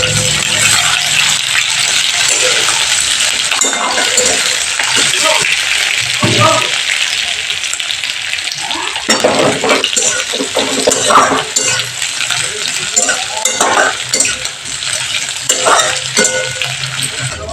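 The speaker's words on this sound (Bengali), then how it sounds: "পেঁয়াজটাকে আমি একটু লাল লাল করে ভেজে নেব।" Onion fries in hot oil as it is browned, a loud, steady sizzle close up, with intermittent scraping and rattling as it is stirred around the pan.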